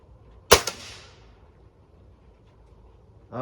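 A single sharp rifle shot cracks out at a target range, loud and close with a brief decaying echo, followed by quiet and a faint rustle at the end.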